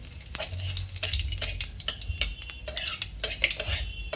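Dried red chillies and cumin crackle and sizzle in hot oil while a utensil scrapes and taps against the pan in quick, irregular strokes.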